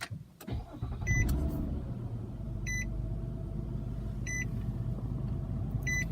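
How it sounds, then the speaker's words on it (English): A 2014 Nissan Maxima SV engine cranks briefly and catches, then settles into a smooth, low idle, while a bright electronic chime beeps in regular intervals from the dashboard. "I'm going to go ahead and fire this Maxima SV up and listen to the engine."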